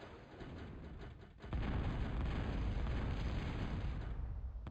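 Bombing explosions rumble through a 2003 head-to-head air combat video game match: a lighter rumbling stretch, then a sudden heavy blast at about 1.5 seconds that settles into a sustained loud roar of blasts with no voices.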